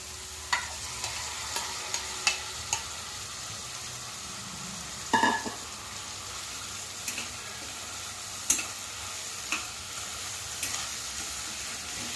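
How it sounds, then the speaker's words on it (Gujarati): Moong lentils half-frying in oil with ginger-chilli paste hiss in a soft, continuous sizzle, punctuated by light, regular taps and clicks of a stirring spoon. "આપણે જે રીતે રાઈસને હાફ ફ્રાય કરશું એવી રીતે જ મગને પણ હાફ ફ્રાય જ કરવાના છે"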